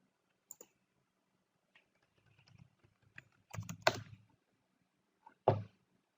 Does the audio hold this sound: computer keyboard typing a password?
yes